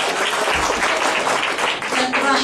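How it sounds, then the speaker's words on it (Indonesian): Applause from a seminar audience in Semarang, a dense steady patter of many hands sustained throughout, with voices talking over it. "berikan tepuk tangan bagi Yesus"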